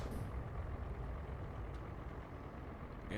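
A heavy truck in American Truck Simulator rumbles steadily as it eases off a snowy winter highway; the low, continuous engine drone holds at an even level throughout with no voices.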